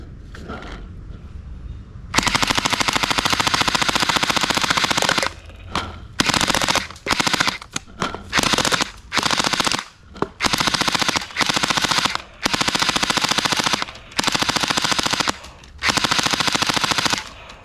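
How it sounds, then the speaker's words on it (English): A toy AK47 machine gun plays its firing sound effect in loud, rapid rattling bursts, about a dozen of them separated by short gaps, with no talking. "AK47 machine gun!"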